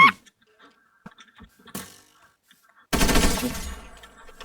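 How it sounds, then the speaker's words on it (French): Gunfire in a Minecraft horror mod, From The Fog: a burst of loud, dense rapid shots near the end, preceded by sparse small game clicks and a sharp crack, no talk. "C'est toi qui as tiré?"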